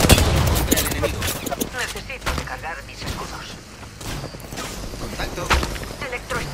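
Rapid gunfire from the battle royale shooter Apex Legends crackles in repeated bursts, loud and close, mixed with game effects, while a voice talks over the action.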